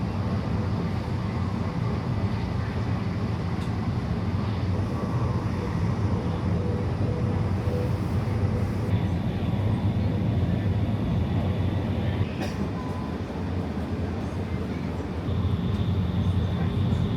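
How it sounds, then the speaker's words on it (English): Steady rumbling train noise with a constant low roar and faint rattles, heard from inside a high-speed train carriage running at about 120 km/h between Beijing and the Great Wall. "the train running around 120 kilometers per hour after leaving Qinghe Station"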